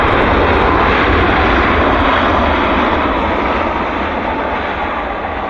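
Airliner landing at Vancouver airport, a loud continuous engine roar close by that fills the whole clip and eases slightly toward the end, with no voices.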